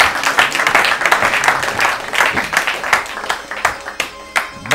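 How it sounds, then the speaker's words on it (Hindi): Dense audience clapping in a studio for a contestant on an Urdu-language literary quiz show, a brisk, steady patter of many hands with a few louder individual claps standing out. "ताली बजाइए हुदा के लिए।"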